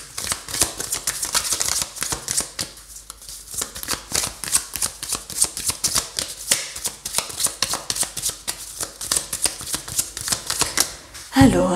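Tarot cards are shuffled in quick, continuous riffling bursts with brief pauses, close and crisp, while someone speaks in French during a reading.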